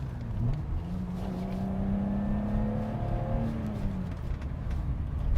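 A BMW 325i E30 accelerates from inside the cabin, its engine note rising steadily through the gears with a smooth, moderately loud drone and a faint whir behind it.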